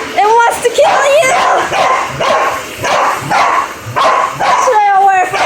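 A dog yips, barks and whimpers in repeated excited bursts at a vacuum cleaner, close and loud against a steady roaring drone.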